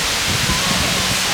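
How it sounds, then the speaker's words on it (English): A large waterfall in Laos roars as a loud, steady wash of rushing water that fills the brief moment with no break. "this is the waterfall that I traveled to"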